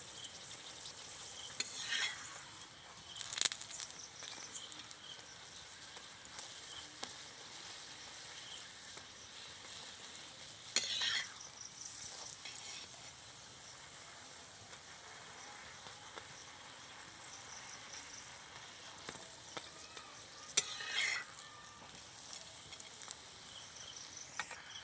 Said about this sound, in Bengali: পরোটাটা আমি বাদামি কালার করে ভেজে নিচ্ছি